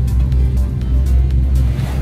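The engine of a 1988 Hatteras 65C fishing boat rumbles loud and steady at sea during a storm, a deep continuous drone with slight surges and wind or water noise layered over it, no talking.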